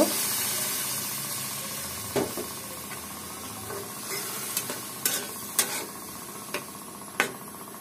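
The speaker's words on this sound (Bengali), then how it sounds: "এখন আমি অল্প পরিমাণে এর মধ্যে পানি দিয়ে দেব।" Potatoes frying with dried loitta fish sizzle steadily in a pan after a little water is added, broken by sharp metallic scrapes and clicks of stirring every second or so, with no talk.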